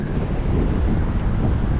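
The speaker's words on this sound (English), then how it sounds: "I think actually it's a little bit windy" Steady wind rushes against the microphone in a continuous low roar on a beach at Seminyak, Bali, close and fairly loud, with no voices.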